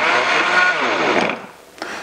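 High-speed blender pulsing an orange and pineapple smoothie, a loud whirring burst that winds down, followed by a brief second pulse.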